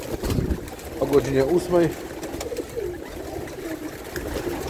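Racing pigeons in a loft coo in low, rolling bursts near the microphone, while someone talks over them.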